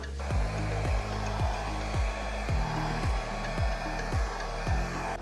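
Air blown steadily over freshly poured acrylic pour paint in vermilion and other colors, a continuous hiss with a regular low pulsing, fairly loud and close, with no voices.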